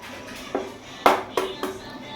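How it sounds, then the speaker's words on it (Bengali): Eggs cracked into a blender jar for a homemade cake batter, heard as a few sharp taps and cracks, close and moderately loud, separated by short gaps. "ডিমগুলো আমি ব্লেন্ডারের ভিতর ফাটিয়ে দিচ্ছি"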